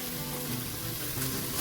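Food frying in a pot for a Grenadian lentil peas pelau, a one-pot dish, giving a steady, close sizzle throughout with a faint click near the end.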